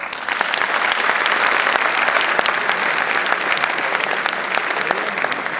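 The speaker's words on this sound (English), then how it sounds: "I request all present here to once again welcome the change with a huge round of applause" An audience at a university ceremony applauds the unveiling of the institution's new identity, a loud, sustained wash of many hands clapping that holds steady throughout.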